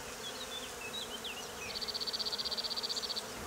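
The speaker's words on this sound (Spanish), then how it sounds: "Los insectos son los encargados de su polinización." Insects buzzing around flowering cauliflower and broccoli plants, a faint drifting hum at first, then a near, steady pulsing buzz as one flies close, with no voices.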